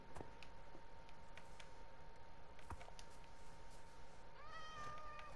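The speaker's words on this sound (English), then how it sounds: "Lot of cats here." Cats meow in a Minecraft village, with a few soft, short mews against quiet game ambience and a rising meow near the end.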